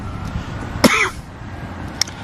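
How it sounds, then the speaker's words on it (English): A single sharp cough bursts out close by, trailing into a brief rasp, followed by a small throat sound about a second later over faint background noise. "sorry for my coughing"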